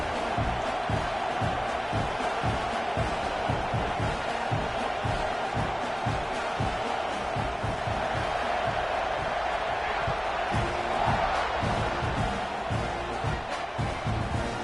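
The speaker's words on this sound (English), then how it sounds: "this crowd now ready to get behind them" Stadium crowd in a college football video game roars steadily at kickoff, a dense continuous cheer holding at an even loud level throughout with faint rhythmic thumps beneath.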